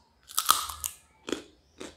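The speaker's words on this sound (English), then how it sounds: "You can hear the crunch." Crisp crunching bites of a light, sweet Korean puffed rice snack, close up: a cluster of crackling bites followed by two separate chewing crunches, with no talking.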